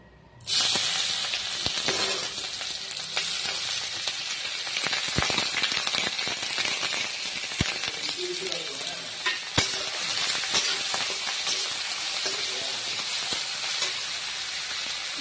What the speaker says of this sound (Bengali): এই আমার তেল গরম হয়ে গেছে। এবার আমি এই কেটে রাখা পেঁয়াজগুলো দিয়ে দেব।